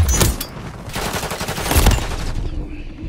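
Gunfire in Call of Duty Modern Warfare 3, a close, loud stream of automatic shots with a couple of heavier bursts, continuous across about three seconds.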